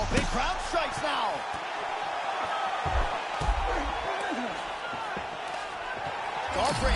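A fighter hits the mat in EA Sports UFC with heavy, dull thuds that land amid a loud, roaring arena crowd, while a commentator talks over the action.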